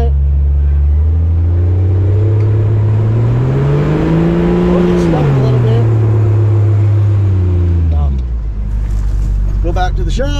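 A Jeep Cherokee XJ drives across sand dunes, its engine roaring loud and close, rising as it revs hard and falling away again, while voices talk over it.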